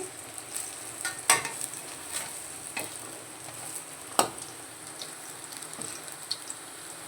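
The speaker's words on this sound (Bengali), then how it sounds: "এক পিঠ পুরো লাল লাল ভাজা হয়ে গেছে তারপর আমি আবার উল্টে দিচ্ছি" Prawn-shell pakoras frying in hot oil, a steady crackling sizzle with scattered sharp pops and spatters, close by and without voices.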